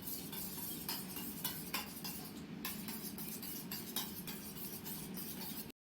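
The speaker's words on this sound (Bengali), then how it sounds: "সাবধানে হ্যাঁ ফেটিয়ে নাও ফেটিয়ে নাও" A spoon whisks eggs in a bowl for egg masala toast, a quick, steady run of light clinks and scrapes against the bowl, close and clear with no talk.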